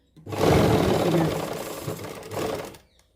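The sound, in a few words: sewing machine stitching lace onto a suit hem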